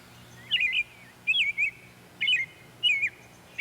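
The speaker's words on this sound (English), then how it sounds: "A quick, bright call breaks the stillness. It pauses, then sings again. The sound is clear and sharp, carrying easily across the garden." A European robin calls in a garden: four short, bright, high chirping phrases separated by brief pauses, clear and moderately loud over a quiet background.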